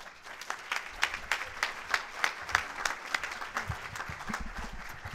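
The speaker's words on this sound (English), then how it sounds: "thank you for that great respect and applause for John" An audience applauds speaker John Moran at a Silver Springs forum, steady moderate clapping with a few sharper, rhythmic claps standing out, continuing for several seconds at a fairly even level.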